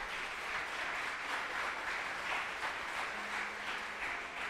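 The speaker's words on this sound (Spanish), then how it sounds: "Dele un aplauso al Señor por eso." Church congregation applauds during a sermon, a faint, distant, steady wash of clapping that holds evenly throughout with no clear individual claps.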